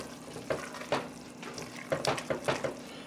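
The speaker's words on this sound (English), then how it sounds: "All we're really doing is cooking off the alcohol" Wine reduces in a pan for French onion soup, a soft, steady simmering sizzle with intermittent scraping stirs and light clinks of a utensil against the pan, quiet and close.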